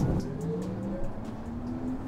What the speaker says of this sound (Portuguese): olha a aceleração desse carro.